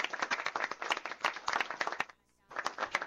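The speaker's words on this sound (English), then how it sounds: "Give me a round of applause for Tara" A room at a board meeting breaks into a round of applause for Tara: dense, steady hand clapping from an audience, with a short lull near the end before the clapping picks back up.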